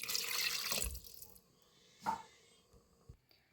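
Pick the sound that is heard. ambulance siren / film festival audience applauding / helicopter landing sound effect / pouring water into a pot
pouring water into a pot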